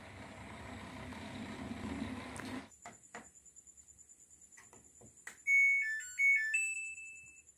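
A Samsung front-loading washing machine plays its short electronic beep melody after a brief series of button clicks, the rising tones clear and close with no one talking.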